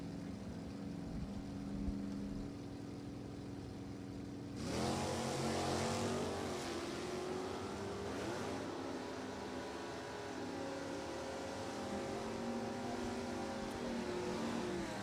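Drag racing launch of a 1971 Buick with a 455 engine against a small-block 1972 Nova at a dragway: a sudden loud roar of two engines accelerating hard, then a long, steady, fading engine drone.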